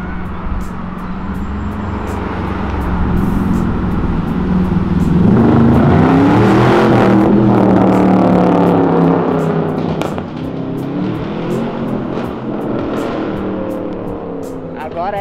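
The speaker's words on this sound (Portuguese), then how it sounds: "Olha lá o Camaro." A Chevrolet Camaro and other sports cars pass along Avenida Europa, engines swelling loudly as they rev and downshift, then fading, with people talking over the traffic.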